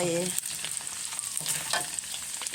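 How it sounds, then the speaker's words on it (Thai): Crushed garlic fries in a pan of hot oil, giving a constant bright sizzle with scattered stirring clatter, close up and without speech. "ทุบกระเทียมลงไปทอดด้วย"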